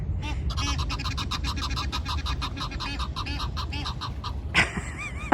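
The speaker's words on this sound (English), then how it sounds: "The geese." A flock of geese honks and calls repeatedly in a busy, continuous chorus, with a sharper burst of honking near the end.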